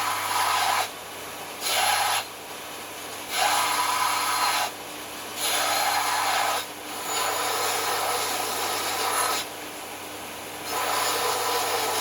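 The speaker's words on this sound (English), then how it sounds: "Bit of a deburr." A metal tube on a mini race car spaceframe is deburred by hand with a file: loud, close rasping strokes in an even rhythm, with short pauses between them over a low steady hum.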